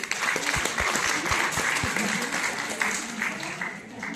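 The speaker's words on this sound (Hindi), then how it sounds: "वेरी वेरी ग्रेट टू सी, तालियां बजा सकते हैं।" Audience applause at an International Women's Day celebration, a steady wash of clapping lasting about four seconds with a few sharper claps near the start and murmuring voices underneath.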